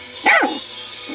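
A Maltese dog gives a single sharp, close bark, followed by a quiet pause and the start of another bark at the very end.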